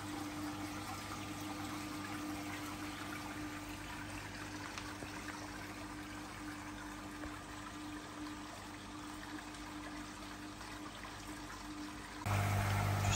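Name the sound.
koi pond bottom drain pump running with water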